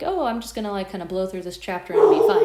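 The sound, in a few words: dog barking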